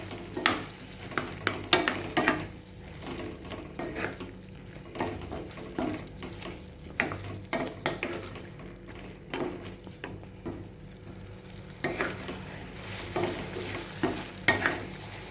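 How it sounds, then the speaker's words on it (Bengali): A spoon stirs turmeric into a bottle gourd curry as it sizzles and simmers in a pan, giving repeated scraping and clanking strokes in an uneven rhythm, close and clear over a steady frying hiss. "হলুদটা ভালো করে মিশিয়ে দেবো।"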